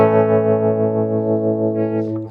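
An electric guitar runs through the Nembrini Double Reverb amp simulator, captured by a ribbon mic: a single fat, slightly distorted note or chord rings out and slowly fades, alone.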